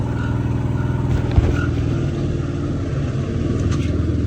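Engine of a Hecht 2650 dumper while driving, a steady close rumbling drone with a faint rhythmic pulsing that holds level throughout, with no talking.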